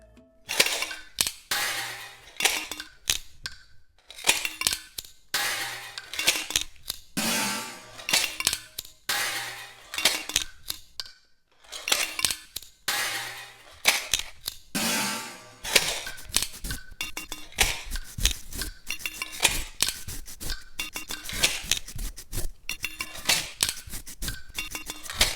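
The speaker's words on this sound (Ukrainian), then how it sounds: "термос, в який падає чайна ложка, жестянка від льодяників з дрібними грошима і каструля з противнем" Busy metallic clattering and clinking from a knife, a lighter, a thermos with a teaspoon dropped in, a candy tin of coins, and a pot with a baking tray, in irregular bursts growing denser and more continuous toward the end.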